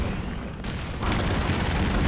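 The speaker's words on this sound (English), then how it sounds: "That was an explosion." Continuous loud, rumbling explosion noise from the run-and-gun video game Broforce, a dense broadband roar that swells halfway through and keeps booming without pause.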